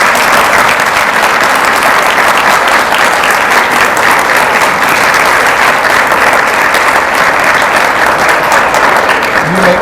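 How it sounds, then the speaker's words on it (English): Sustained, loud applause from a large audience honoring newly installed officers of the Lubbock Association of Realtors at their 2021 installation ceremony, dense steady clapping filling the room throughout. "You may lower your hands as we give you a big round of applause"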